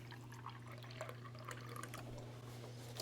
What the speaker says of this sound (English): You're just adding this liquid so your bread and your eggs will get, the milk and the eggs get absorbed into the bread